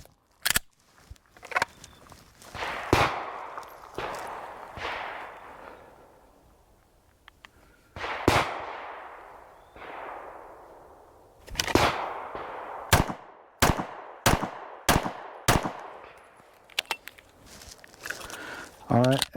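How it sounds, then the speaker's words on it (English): A Springfield XDM pistol fires sharp, loud shots in a shooting warm-up drill. The shots come singly in spaced pairs, then in a faster string of cracks near the end, each followed by a ringing echo. "the first shot might have been a little low, the second one possibly a little low"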